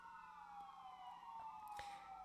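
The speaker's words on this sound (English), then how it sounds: "here's our first ambulance of the day. First siren of the day." An ambulance siren sounds faint and distant, a thin, slowly gliding tone that persists beneath low background noise, with a few soft clicks nearby.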